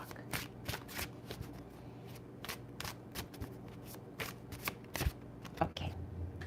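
Tarot cards being shuffled by hand, repeated soft riffling bursts at close range with quiet handling sounds and faint voice in between.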